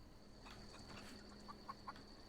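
Chickens clucking in the sci-fi video game The Outer Worlds, faint background clucks with a few short clucks near the end, over a steady low game ambience with no talking.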